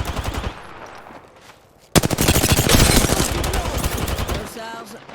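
Video game gunfire: a short burst of shots, a brief lull, then sustained rapid automatic fire that stays loud and dense for several seconds.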